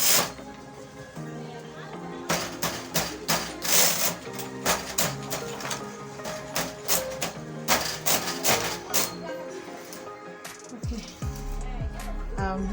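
A domestic knitting machine knits a dress, the carriage sweeping across in bursts of rattling clacks and taps, close and fairly loud, with a person talking between passes.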